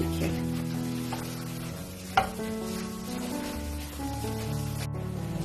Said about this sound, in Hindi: और इसको भूनना है, अच्छा सा मिक्स कर देना है